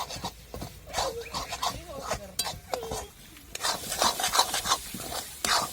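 Peas and grated gravy paste are sautéed in masala, with a spoon scraping and stirring in a pan under a light sizzle, loudest near the end. A person talks over much of it.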